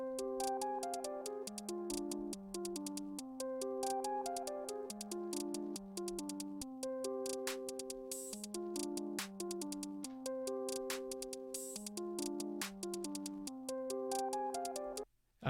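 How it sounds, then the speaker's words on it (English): A steady electronic beat with crisp ticking hi-hats repeating in a tight pattern over sustained synth tones, loud and continuous throughout. "So now we just have the hi-hats in pattern 1."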